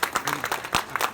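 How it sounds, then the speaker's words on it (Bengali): An audience at a factory New Year celebration claps in welcome, producing a brief burst of scattered, crackling hand claps at close to moderate distance. "সবাই করতালি দিয়ে স্বাগত জানাবেন।"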